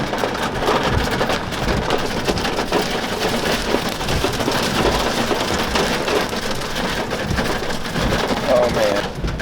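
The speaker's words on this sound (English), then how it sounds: "Now it's hailing. I know you guys can hear that." Hail pelts down in the forest during an off-road run with Toyota Tacomas, a dense, continuous patter and rattle striking close by, steady and loud across the whole stretch.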